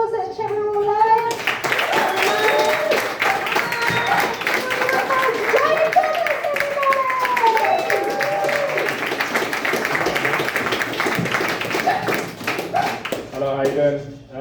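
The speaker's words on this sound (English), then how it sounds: "massive round of applause" A comedy club audience at Egan's Comedy Club claps loudly and steadily for over ten seconds, with voices and cheers mixed into the applause until it fades near the end.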